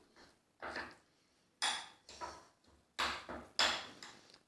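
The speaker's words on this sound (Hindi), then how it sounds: "अब हमने इसको अच्छी तरह से मिक्स करना है" A spoon stirs a thick chili and spice paste in a bowl, making a series of close scraping and clinking strokes in irregular bursts with short pauses between them, no talking.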